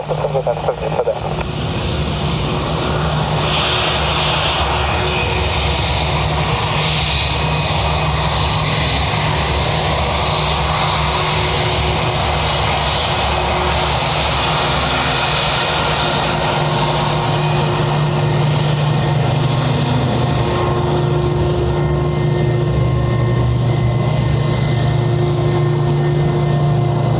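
An airliner landing on runway 28 left at Dublin airport, a loud sustained engine drone with steady low hum and broadband roar throughout, with faint radio chatter beneath.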